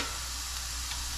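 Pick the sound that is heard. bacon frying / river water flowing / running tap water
bacon frying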